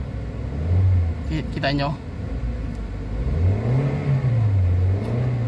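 A Toyota Avanza engine treated with XADO to cure low power and delayed throttle revs in repeated rising and falling surges, a close mid-pitched rumble, while someone talks over it.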